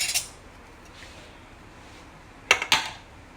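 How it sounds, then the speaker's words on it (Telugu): Two quick ceramic clinks of food being set onto a plate at breakfast, just after a stove is switched off, following a fainter clatter at the start. Otherwise a quiet kitchen with no talking. "ప్లేట్లో పెడతాను."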